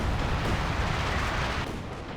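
A Land Mattress rocket artillery barrage in Company of Heroes 2 roars as one dense, continuous wall of rumbling blasts and crackling impacts, loud and close, with no talk.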